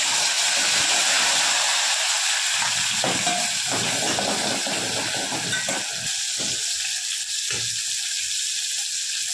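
Tomatoes fry in a pan with a loud, continuous sizzle and hiss throughout, broken by a few soft stirring knocks.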